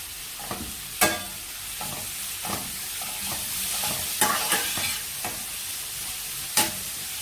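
Chopped onions with salt sautéing in a pan for a Chettinad vegetable korma: a steady soft sizzle with repeated scraping stirs of a spoon at irregular intervals.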